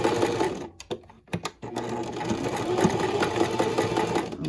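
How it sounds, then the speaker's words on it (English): Sewing machine stitching a washable fabric pandemic mask, its rapid mechanical chatter running close and continuous with a couple of brief pauses near the start. "and sew it down."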